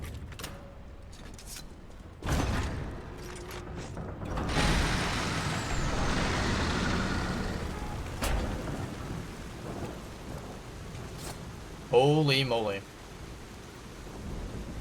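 Rain and rolling thunder on a night street at a train station plaza in the game Lies of P, a steady downpour wash with low booming rumbles and a sharp metallic creak near the end; a man briefly exclaims.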